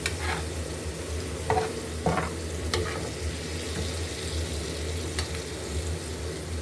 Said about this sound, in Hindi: इसमें दही ऐड कर लिया। अब इसको हम मिक्स कर लेंगे।